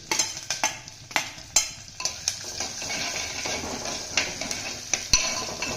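Onions and curry leaves frying in oil for a bottle gourd kurma, a hissing sizzle broken by repeated sharp spatula strikes and scrapes against the pan, close up with no talk.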